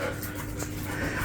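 Puppies panting close by in a farm setting, quick rhythmic breathy huffs running steadily through the moment, with a faint whimper.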